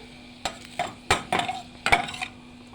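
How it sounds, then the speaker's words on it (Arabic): Grated onion and garlic cooking in a little oil in a pan, with several distinct bursts of stirring and scraping over a soft sizzle; no talking. "هننزل ببصلايه مبشوره صغيره خالص ومع فصين توم وشويه زيت، هنبدا نشوح فيهم كده"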